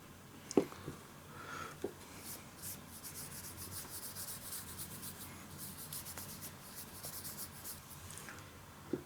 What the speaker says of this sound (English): I'm trying to avoid hitting the color with the eraser.